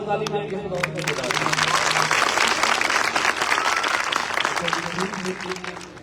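A congregation at a live praise and worship service claps together in a loud burst that swells and holds, with music and a singing voice around it.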